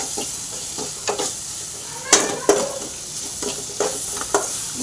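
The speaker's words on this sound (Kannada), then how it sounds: "ಗರಂ ಮಸಾಲ ಮತ್ತು ಅಚ್ಚು ಖಾರದ ಪುಡಿ ಹಾಕಿ ಚೆನ್ನಾಗಿ ಫ್ರೈ ಮಾಡ್ಕೊತಾ ಇದ್ದೀನಿ" Masala with garam masala and chili powder frying in a pan makes a continuous sizzle with brisk scraping strokes of stirring, a couple of louder clatters midway, close up and without speech.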